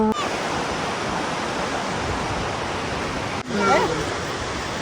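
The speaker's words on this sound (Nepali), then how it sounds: "हामी चाहिँ गएको छौँ अहिले रोसी खोलामा यो चाहिँ रहेको छ रोसी खोला" The Rosi river rushes across a wide gravel bed, a broad, even roar of flowing water that fills the whole stretch. A brief bump comes near the end along with a few faint vocal sounds.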